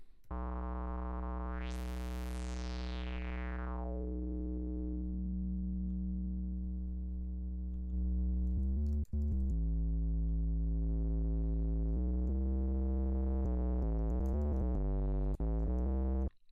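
A sustained buzzy synthesizer tone plays alone in Bitwig, its brightness sweeping up and down as a filter opens and closes, later wobbling in pitch.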